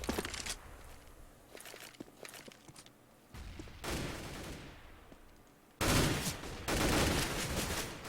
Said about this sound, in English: HV and Dellen trading some bullets off at long